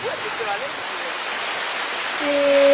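Large waterfalls in the Fouta Djallon massif, surrounded by greenery, produce a steady, dense roar of falling water that fills the whole clip and swells slightly louder toward the end.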